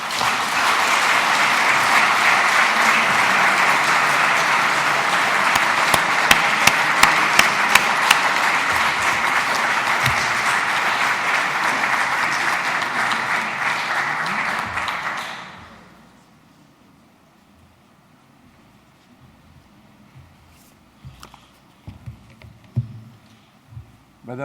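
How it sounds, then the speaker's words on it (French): Audience at an academy award ceremony applauding, a long, steady roar of clapping lasting about fifteen seconds before fading away into a quiet room with faint shuffling. "je crois qu'on peut les applaudir et les féliciter"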